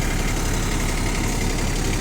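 A Japanese ISEKI SIAL TF223F compact tractor engine idles steadily, a constant, dense mechanical drone close to the microphone with no breaks or revving.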